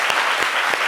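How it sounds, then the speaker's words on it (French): Studio audience applause on a midday TV talk show welcoming Miss Côte d'Ivoire 2023, continuous close clapping with a few sharper claps standing out. "Ça s'applaudit quand même."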